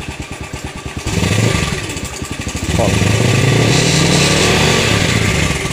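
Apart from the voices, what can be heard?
motorcycle engine revving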